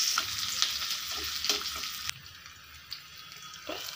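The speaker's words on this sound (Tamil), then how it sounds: "பெருங்காயத்தூள் கொஞ்சம் போட்டு இதை நல்லா ஃப்ரை பண்ணி சாம்பாரில் சேர்த்திடலாம்" Asafoetida tempering fries in hot oil for chow chow sambar, a steady close sizzle with a few stirring clinks and scrapes.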